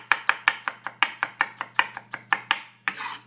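A knife chops garlic rapidly on a cutting board, about fifteen quick, evenly spaced taps, close and crisp, ending with a short scraping sweep.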